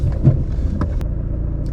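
A manual car creeps along at low revs under clutch control, its engine giving a steady, close low rumble with a few faint knocks and no talking.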